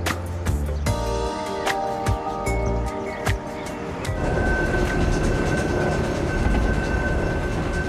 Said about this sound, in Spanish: un ferrocarril de cremallera conecta la parte alta y baja de la ciudad